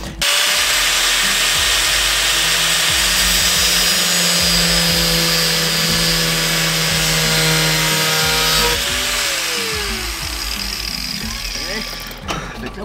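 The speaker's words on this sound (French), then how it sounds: "je vais pogner mon grinder. Puis je vais venir couper ça là ici" An angle grinder cuts off the mudflaps on a Dodge Dart, a loud steady whine running nearly continuously with a brief pitch drop as the load changes, close and dominant throughout.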